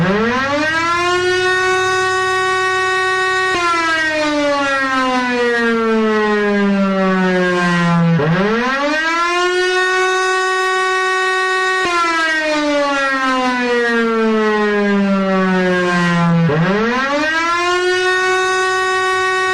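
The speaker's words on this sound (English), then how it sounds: "According to people who remember the crossing, the air raid siren didn't go up and down in pitch like that." An air raid siren in an animation of the Billups neon crossing signal wails loudly and continuously, its pitch sweeping down and then rising sharply again in repeated long cycles.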